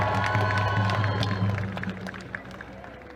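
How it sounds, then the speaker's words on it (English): A large crowd at a Palestine march rally in Washington applauds and cheers, loud at first and then fading over a few seconds, with scattered shouts. "Please give him a round of applause."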